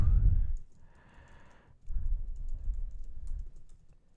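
Computer keyboard typing, a run of soft close clicks and taps in bursts, with low rumbling handling noise and no talk.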